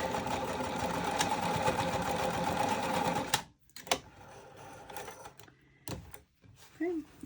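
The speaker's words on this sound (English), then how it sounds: "I'm actually going to sew a second line of stitching about 1/8 inch from the first" A sewing machine runs steadily for about three seconds, stitching a second reinforcing line on a crescent bag's D-ring connector, then stops and gives way to a few scattered clicks and handling knocks nearby.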